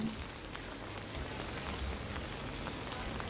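Steady rain falls on a city centre street in La Coruña, Spain, a dense even patter and hiss filling the whole clip at moderate distance, no voices.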